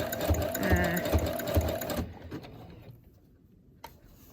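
A sewing machine runs fast for about two seconds with a rapid, rhythmic mechanical whir and thump, then stops, leaving near silence and one small click, while a person talks over it.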